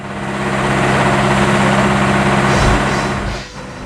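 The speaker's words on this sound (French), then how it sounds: "vérifions d'abord ce qu'il a dans le ventre avec un passage au banc moteur" A Valtra N163 tractor's four-cylinder engine runs on a dyno with a steady, close mechanical drone that holds even before dipping briefly near the end.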